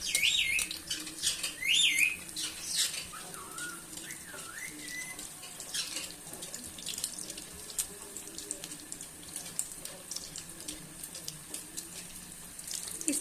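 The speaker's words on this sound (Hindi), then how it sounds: "हमने बहुत ज़्यादा डीप फ्राई नहीं करना है, इसलिए मैंने ऑयल जो है वो कम लिया है कि बस इसमें जस्ट 3 से 4 कबाब फ्राई हो जाएं" Chicken and potato kebabs shallow frying in a little oil, a steady crackling hiss running throughout with occasional sharper spits and clinks near the pan.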